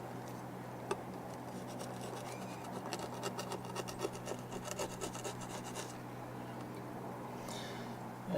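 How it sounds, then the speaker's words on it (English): Old silicone being scraped off a fiberglass RV surface with a tool: repeated soft rasping, rubbing strokes in steady bursts, close and fairly quiet, with no talking. "cleaning off the old silicone"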